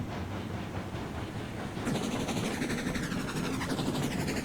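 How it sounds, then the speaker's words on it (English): Steam tank engines working as helpers shove a heavy train up a steep grade in the Railroads Online game, heard as a continuous rolling rumble with rhythmic chuffing and clacking that grows louder and fuller partway through. "Look at those husky little tank engines pushing on this train"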